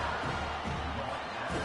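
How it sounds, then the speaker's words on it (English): Dense roar of a football stadium crowd getting loud behind the defense on third down, Louisville at Penn State, a steady wash of massed voices throughout with no break. "Decibels rising as the crowd gets behind this defense on 3rd down."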